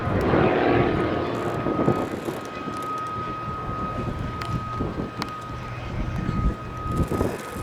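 Jet Pitts Special aerobatic biplane with two ATM Lynx gas turbine engines burning sustainable aviation fuel, performing at an air show: a steady, loud turbine roar with a sustained whine, heard at a distance with no talk.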